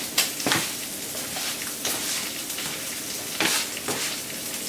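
Pork being stirred into a marinade in a bowl, with soft wet sloshing and a few sharper scraping strokes repeating every second or so at close range.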